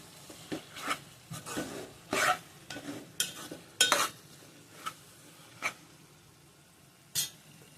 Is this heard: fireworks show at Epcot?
no